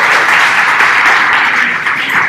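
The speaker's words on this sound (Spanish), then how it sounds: "Un aplauso para las mujeres" Applause from a conference audience at a women's day tech event, a steady dense wash of clapping lasting the whole stretch without gaps, fairly loud and close.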